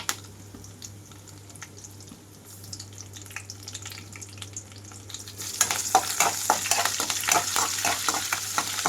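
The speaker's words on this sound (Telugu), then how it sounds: "తాలింపంతా వేగిన తర్వాత పచ్చిమిరపకాయలు అలాగే ఎండుమిరపకాయలు వేస్తున్నాను కొద్దిగా కరివేపాకు రెమ్మలు కూడా" A tempering of green chillies, dry red chillies and curry leaves fries in hot oil, starting as a quiet low sizzle and then bursting into a louder, crackling hiss with sharp pops in the final seconds.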